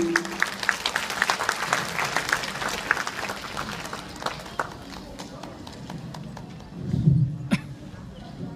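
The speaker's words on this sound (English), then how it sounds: "So I think they deserve another round of applause." An audience at a children's concert claps in a burst of dense, rapid applause that thins and fades over several seconds, with a few scattered claps and a low voice near the end.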